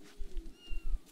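A cat meows twice in the Grim Legends hidden-object game, two short soft calls in quick succession over a low steady hum of background music.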